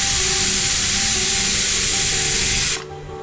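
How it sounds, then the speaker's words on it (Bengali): A pressure cooker lets off steam in a loud, continuous hissing rush close by, which cuts off abruptly near the end and leaves a quieter background. "এরপর আমি প্রেসার কুকারটায় সিটি দিতে দেব।"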